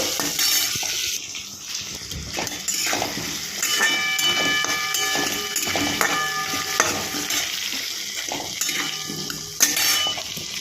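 Potatoes fry in hot oil in a pan on a gas stove at medium heat, a steady close sizzle and hiss with occasional scraping stirs over about ten seconds, no talking.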